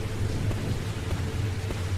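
Rain falling in the Ruby River Remaster video game, using the older 3DS rain effect: a steady, dense hiss of rainfall with low rumbling underneath, continuous and fairly loud throughout.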